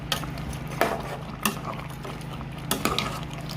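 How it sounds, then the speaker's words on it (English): A utensil stirring a pot of Nsala soup with goat meat, then the lid going on, heard as a few scattered metallic clinks and scrapes over a steady low hum. "I'm going to give this a quick stir and cover it."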